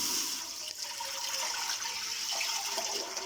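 Water from a jug splashes into a pressure cooker, a soft continuous pouring that fades slightly and then carries on steadily, with no one talking.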